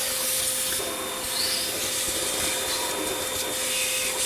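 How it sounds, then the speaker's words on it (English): A vacuum cleaner running inside a car interior, a steady loud whooshing hiss with rubbing and shifting suction noises as the nozzle moves about, continuous throughout and without speech. "I'm definitely going to get a vacuum and vacuum this out."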